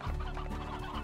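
Hens from the video game Slime Rancher cluck in a short, close burst of several quick clucks over a faint steady background hum.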